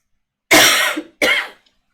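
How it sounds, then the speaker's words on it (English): Two dry allergy coughs close to the microphone, the first longer than the second, with a brief pause between them in otherwise quiet surroundings. "Just a dry cough, allergies."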